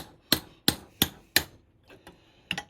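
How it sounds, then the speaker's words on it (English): A hammer drives a chisel to chop the rotten remains of a bypass tube off a classic Mini cylinder head: four sharp, evenly spaced metallic blows close by, then a few lighter taps. "To do this, I'll just use a hammer and chisel."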